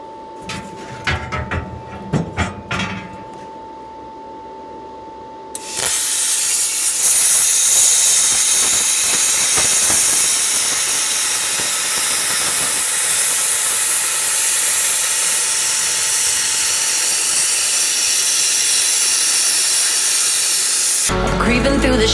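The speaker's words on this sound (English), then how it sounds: "I'm just going to plasma cut them out" A plasma cutter slices through steel plate in a workshop with a loud, continuous roaring hiss that runs steadily for about fifteen seconds, following a stretch of quieter shop noise and clanks.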